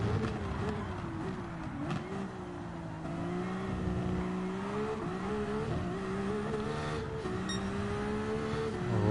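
Race car engine in the Gran Turismo 7 racing game, running on straight engine power with its electric boost spent, a steady loud drone with shifting pitch and no pauses, held close for the whole stretch.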